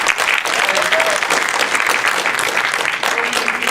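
Steady, dense applause from an audience for legislators, clapping filling the room at a consistent level for several seconds.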